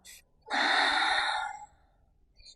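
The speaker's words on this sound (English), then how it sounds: "Breath in and breath out of your mouth." A single long breath pushed out through the mouth during a Pilates child's pose, a close, breathy rush lasting about a second, with a small intake before and a faint one after.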